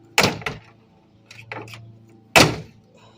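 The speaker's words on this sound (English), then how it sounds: "Shouldn't have to slam it that hard." Heavy thunks from a Chevrolet C10 pickup truck door as it is slammed shut, with a loud impact near the start, a quieter knock, light rattles, then a second hard slam close by.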